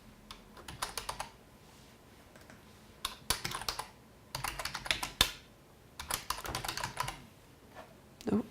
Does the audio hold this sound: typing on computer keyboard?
yes